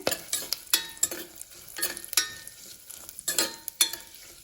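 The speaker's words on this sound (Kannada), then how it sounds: "ಎಲ್ಲ ಮಸಾಲೆ ಪದಾರ್ಥಗಳನ್ನು ಹಾಕ್ಕೊಂಡು ಸ್ವಲ್ಪ ಹುರ್ಕೊಳ್ತೇನೆ" Whole spices including star anise, cloves, cinnamon and peppercorns frying and stirred in a pan for dill-leaf pulao: steady sizzle with repeated scraping stirs and light clinks, close and alone.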